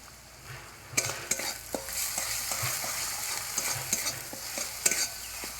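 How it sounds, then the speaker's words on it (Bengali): Spiced chopped tomato cooking in a pan with chilli powder, turmeric and salt, a steady soft sizzle broken by sharp scrapes and knocks of a spoon stirring, close and alone. "কুচানো টমেটো দিয়ে ভালো করে কষিয়ে নেব"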